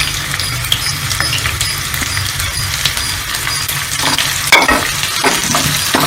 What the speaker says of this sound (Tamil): வெங்காயம், பச்சை மிளகா, கருவேப்பிலை இதெல்லாம் மட்டும் நல்லா வதக்கிக்கணும்.